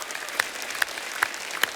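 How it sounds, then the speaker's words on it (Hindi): An audience applauds loudly for an actor at a live event, a continuous crowd clap with a few sharp claps standing out at a steady beat. "जोरदार तालियां इनके लिए।"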